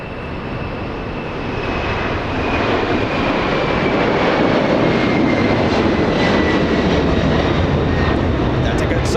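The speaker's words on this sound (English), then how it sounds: "A Ghost 747 close-up departure. 4 CF6 engines on this 747." A Boeing 747 with four General Electric CF6 engines takes off close by at Los Angeles International Airport, a loud, steady jet roar that swells and holds with a faint whine on top.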